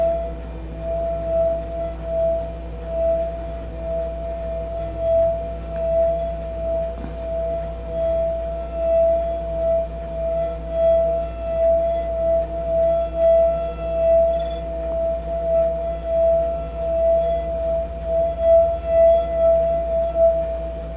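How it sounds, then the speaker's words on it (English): A wet fingertip circles the rim of a water-filled glass, making a steady singing glass tone that hums on continuously, pulsing gently as the finger travels around, moderately loud and with no talking. "Put your wet finger on the edge of the glass,"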